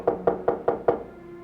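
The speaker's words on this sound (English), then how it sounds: "Oh, listen, there's somebody at the door." Five even knocks on a door in a steady rhythm, close and solid, heard alone in a quiet room.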